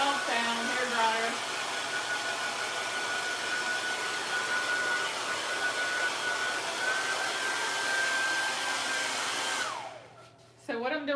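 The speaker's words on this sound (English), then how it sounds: "Sorry, loud sound, hair dryer." A hair dryer blows steadily and loudly on a painted canvas background with a continuous whine, then switches off near the end.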